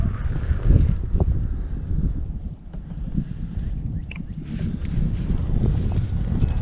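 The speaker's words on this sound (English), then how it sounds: "Yeah, it's pretty windy out." Gusty wind buffets outdoors, producing a low, rough rumble that rises and falls continuously without pause.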